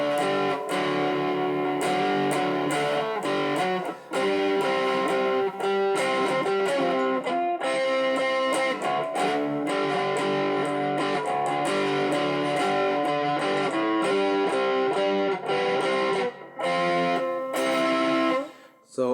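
An electric guitar on the neck pickup plays the bridge riff of a song with distortion, a low, heavy, rhythmic riff repeating steadily for nearly twenty seconds with brief gaps.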